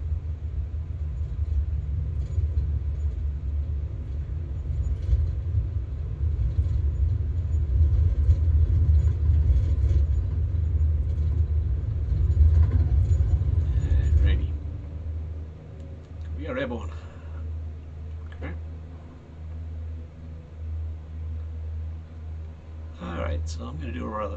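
A steady, heavy low engine drone from an aircraft in the X-Plane flight simulator holds for a long stretch, then drops to a quieter hum, with scattered clicks and light knocks toward the end.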